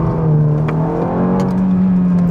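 A Ferrari F430 in race mode, its engine revved loud and close up to the rev limiter, a steady high-pitched roar holding near the cutoff for a couple of seconds.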